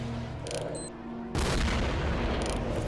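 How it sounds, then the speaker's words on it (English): Gunfire in the video game STALKER: Shadow of Chernobyl, a loud sustained burst of shots that cuts in abruptly after a quieter stretch and carries on to the end, with no talking. "He's firing at the trees."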